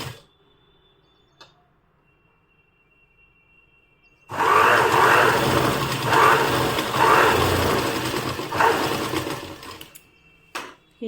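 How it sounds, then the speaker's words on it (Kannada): A sewing machine stitches fabric for a door mat, whirring loudly and evenly for about five seconds after a quiet pause, then stopping, with faint clicks before and after. "ಹಿಡ್ಕೊಂಡು ಸ್ಟಿಚ್ ಮಾಡ್ಕೊಳ್ತೀನಿ"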